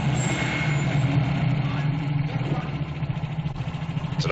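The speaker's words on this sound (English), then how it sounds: "It's an army truck." A military truck idles steadily in a 1946 film scene, its low rumbling engine hum continuous and fairly close, with faint background noise and no clear speech.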